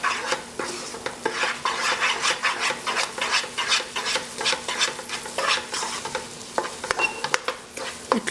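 Mohanthal, a gram flour sweet, being stirred in a pan: a continuous loud rasping scrape with rhythmic strokes and a soft sizzle underneath, close up.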